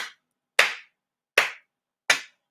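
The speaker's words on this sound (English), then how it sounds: "Clap for yourselves." Four sharp, isolated hand claps from an audience at a political speech, loud and close, spaced unevenly with silence between them.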